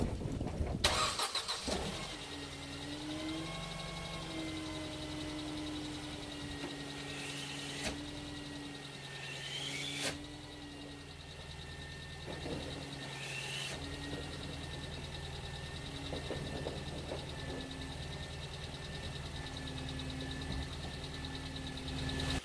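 A Mercedes C-Class / CLK 200 Kompressor engine cranks and starts after an exhaust silencer replacement, then settles into a steady idle that hums on for a long stretch, with a few faint clicks.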